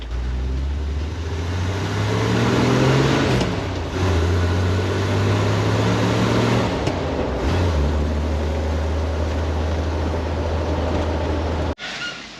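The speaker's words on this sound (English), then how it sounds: "We'll take it for a ride, see if it's any different." A car drives along the road after a DIY wheel alignment with a $27 home kit. A steady engine drone and tire rumble are heard from inside the cabin, with the pitch shifting as it changes gear.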